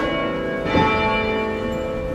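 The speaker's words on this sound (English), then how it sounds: "The bells do toll." A church bell in Leicester tolls outdoors: one rich stroke that rings on as a sustained, humming tone with steady overtones.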